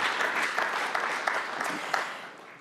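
Audience applause at a State of the City address in Durham, a steady wash of clapping from a crowd filling the room, sustained and then tapering off.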